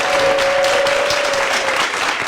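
Loud, sustained applause from an audience at a French-language panafricanist conference fills the whole stretch as one steady, dense burst of clapping.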